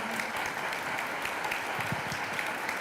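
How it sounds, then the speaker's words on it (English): Steady applause from a crowd, dense and continuous clapping throughout without a break. "a round of applause for our panel today"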